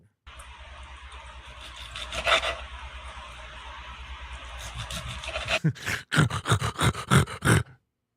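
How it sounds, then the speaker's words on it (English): A knife saws through a tough ribeye steak, a close grinding rasp that runs steadily for several seconds and then turns into short, loud, choppy back-and-forth strokes. "You can hear how tough it is. Listen to the sawing."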